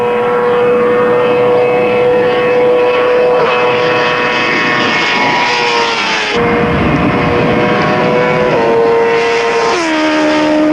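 A 2001 Suzuki GSX-R1000 superbike engine screams loudly and steadily near 299 km/h, its pitch holding high with brief shifts as it keeps pulling at speed.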